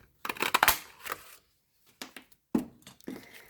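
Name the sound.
2 1/4 inch circle punch punching paper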